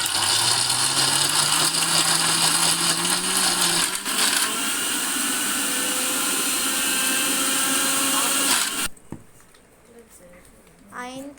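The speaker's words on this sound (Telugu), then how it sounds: "మిక్సీ గిన్నెలో కొబ్బరి అలాగే చింతపండు వేసి మిక్సీ పట్టించుకోవాలి." A mixer grinder blends coconut and tamarind for a chutney, running as a loud, steady whirring roar that shifts pitch early on, then cuts off abruptly near the end, leaving quiet background noise.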